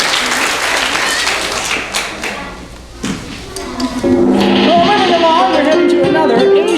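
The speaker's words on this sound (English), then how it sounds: "Give her a big round of applause." A crowd breaks into applause that grows from scattered claps into loud, sustained clapping, with voices mixed in toward the end.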